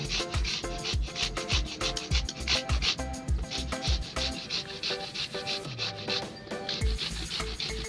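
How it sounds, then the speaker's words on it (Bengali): Mangoes being rubbed by hand produce a rhythmic, repeated scraping and rubbing, close and fairly loud, in quick even strokes with short pauses between bursts. "এবার আমি আমগুলো ঘষে নেব"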